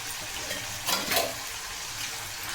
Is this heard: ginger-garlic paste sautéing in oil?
yes